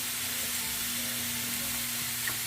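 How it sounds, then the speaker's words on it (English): Barbecue sauce sizzling on chicken in a hot grill pan: a steady, soft, hissing frying sound, close and unbroken, with no talking. "I'm gonna flip it just to get a little sizzle on that sauce"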